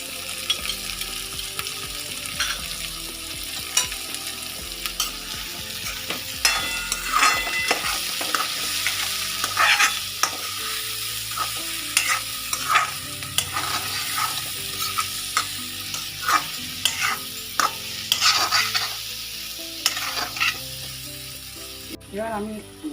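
Potato, fenugreek leaves and peas stir-fry in a pan with chilli, roasted cumin and coriander powders, sizzling steadily up close while a spatula scrapes and taps in an irregular rhythm throughout, without any talking.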